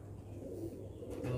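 Shahjahanpuri pigeons cooing softly in low, repeated murmurs, close by, with a steady background hum.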